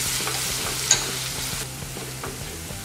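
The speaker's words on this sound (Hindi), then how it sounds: "ये जिंजर गार्लिक को हमने आधे मिनट के लिए भून लिया है" Coarsely ground ginger-garlic paste frying with spices in a pan over a low flame for chole, giving a soft continuous sizzle with light stirring scrapes, close up and without voices.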